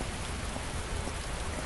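Steady, dense rain hisses without pause in a GTA-style Android mobile game, a uniform wash of falling drops at low level with no rise or break and no voices.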